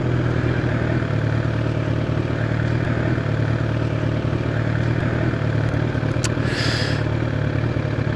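Loud, steady engine rumble of a Kawasaki ZX10R sport motorcycle idling and revving at close range, with a brief higher hiss near the end.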